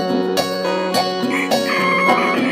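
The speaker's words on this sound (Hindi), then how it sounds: "हर रोज सवेरे मुर्गे के कुकड़कू बोलते समय ही जाग जाते।" A rooster crows loudly and close by, its long call repeating with a brief cluck in between.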